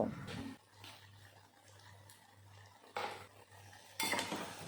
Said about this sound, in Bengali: দিয়ে দেব হলুদের গুঁড়ো জিরা গুঁড়ো ধনে গুঁড়ো লঙ্কা পাউডার আর নুন দিয়ে ভালো করে মিশিয়ে নেব